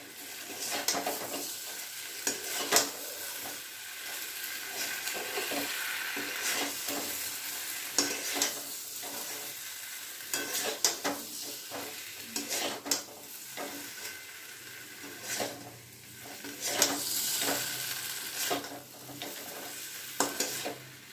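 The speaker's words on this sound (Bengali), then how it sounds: "দুটো পটল কেটে ভাজা করে নিলাম" Sliced pointed gourd frying in a pan gives a continuous close sizzle broken by repeated scraping and stirring clatters at irregular intervals, with no talking.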